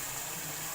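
Water poured into a pan of chicken kofta masala after the spices have been fried, a short steady watery rush heard close up and alone.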